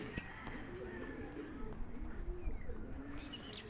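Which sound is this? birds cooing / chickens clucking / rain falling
birds cooing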